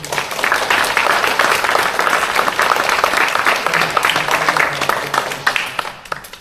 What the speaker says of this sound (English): So if we could just give them a real quick round of applause